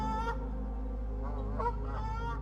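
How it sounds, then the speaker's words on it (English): Canada geese honk loudly and repeatedly as a flock crosses a road, the calls close and clear with several overlapping honks in quick succession. "the flock of Canada geese that stops traffic as they cross the road"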